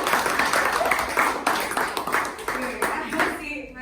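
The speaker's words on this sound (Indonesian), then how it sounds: "Tepuk tangan dulu untuk kawannya" A classroom of students claps for a classmate, a lively burst of hand clapping with rhythmic peaks, mixed with chatter and voices throughout.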